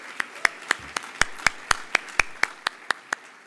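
Slow, sparse hand claps ring out one by one at a steady rhythm at an Engineers Week reception, a single nearby clapper standing out rather than a full crowd.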